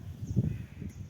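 A single crow cawing briefly outdoors, one rough call of moderate loudness from some distance.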